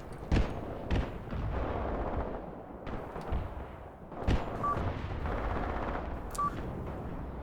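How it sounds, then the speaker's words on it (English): Incendiary artillery strike in the war game Graviteam Tactics, with several sharp distant booms and gunfire cracks spread irregularly over a rumbling battlefield background. "Actually, let's fire the incendiary that I still have."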